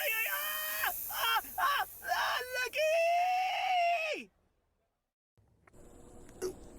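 A man screams in pain while getting a tattoo: a burst of short, ragged yells, then one long wailing scream that breaks off into near silence before faint background noise returns.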